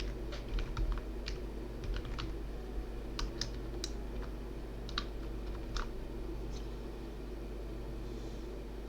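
Fingers type on a computer keyboard in quick, uneven bursts of light clicks with short pauses between, quiet and close, over a faint steady hum.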